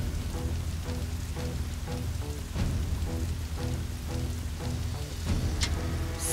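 Rain falls steadily in the video game Dynasty Warriors 8, a dense continuous patter on surfaces with a few sharper drop-like accents, loud and unbroken.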